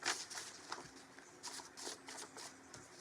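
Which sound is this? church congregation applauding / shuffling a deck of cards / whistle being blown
shuffling a deck of cards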